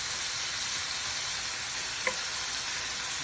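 Venison stir fry sizzles hard in a pan over high heat, a constant bright hiss with one small crackle partway through.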